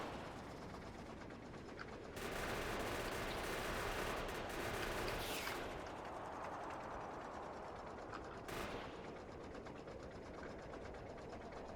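Gunfire in the video game Factorio aimed at attacking spitters: rapid, continuous mechanical rattling shots that grow louder after a couple of seconds and carry on steadily to the end, with no voices.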